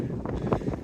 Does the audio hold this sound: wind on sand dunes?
yes